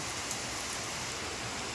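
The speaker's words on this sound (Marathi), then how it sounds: "पंढरपूरमध्ये असा पाऊस पडलेला आहे" Unseasonal rain in Pandharpur pours down in a dense, steady hiss on surfaces, loud and unbroken, with no wind and no talking.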